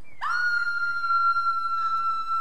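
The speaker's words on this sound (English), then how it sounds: "In this game, you can scream." A character's scream in a Roblox theme park game: one sudden, shrill, sustained electronic-sounding cry held steady for about two seconds, loud and alone.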